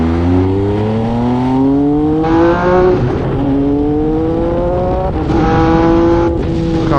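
A 2020 MV Agusta Brutale 800RC motorcycle engine revs up hard through several gears, pitch climbing in rising sweeps with brief drops at each shift, loud and close with wind noise.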